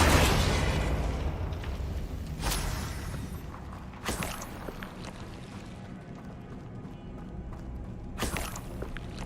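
Confringo fire spells exploding in the Hogwarts Legacy video game: three sharp booming blasts spaced a few seconds apart, each with a short rumbling tail, over a steady ambient game background.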